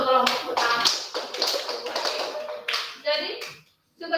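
A classroom full of students claps for the first group of presenters, a burst of scattered clapping with children's chatter mixed in, fading out near the end.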